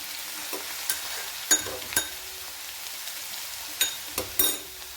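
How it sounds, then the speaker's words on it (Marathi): Crushed, coarsely pounded garlic sautés in a pan with a steady close sizzle, broken by several sharp scrapes and clicks of stirring spaced irregularly throughout. "इथे बघू शकता लसणाला पण छान असं आपण परतून घेणार आहोत"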